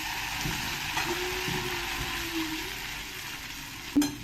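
Sabudana khichdi stirred in a frying pan, giving a soft, steady sizzle with light scraping strokes and a sharper clink near the end, all fairly quiet.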